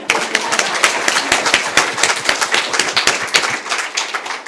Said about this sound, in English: Just a round of applause for getting to that position.